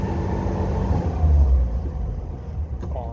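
Six-wheel-drive vehicle engine rumbling low and steady from inside the cab while the driver shifts gears, the drone dipping briefly as the gear changes, with a short mechanical clunk near the end.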